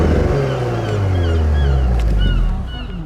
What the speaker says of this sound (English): that's my favourite thing about the car, is the sound on it